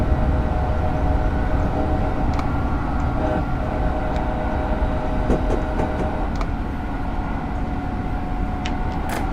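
Train engine in Train Simulator, throttle raised to 50% on a run toward 70 mph, giving a loud, steady rumbling drone of rolling wagons with faint clicks and no speech.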